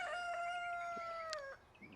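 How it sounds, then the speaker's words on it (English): A rooster crows once, a clear rising-then-sustained call at moderate distance, ending abruptly with faint background sounds. "there's our rooster."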